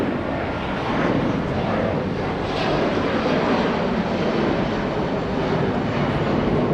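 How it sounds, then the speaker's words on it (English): Turkish Airlines jet landing at Los Angeles International Airport on the north side, a steady broadband engine roar at moderate distance that holds evenly throughout without clear rise or fade. "That's Turkish Airlines coming in on the north side."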